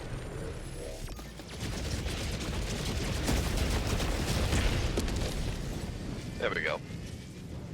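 Strafing-run gunfire and explosions striking bots in a video game, a dense, continuous barrage of booms and bursts rolling for several seconds, with a voice speaking over the din.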